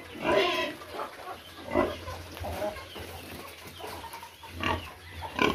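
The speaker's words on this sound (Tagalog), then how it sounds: "Yan yung ating inahing baboy." A sow grunts and snorts repeatedly up close, with chickens clucking nearby in a farmyard.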